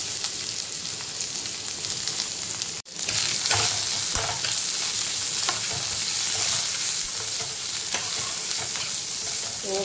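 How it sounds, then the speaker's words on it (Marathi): Onion frying in a pan on a gas stove, a dense steady sizzle with stirring scrapes, briefly cut near the third second before resuming at full strength and continuing throughout. "तो आता पॅनमध्ये टाकून फ्राय करून घेऊया"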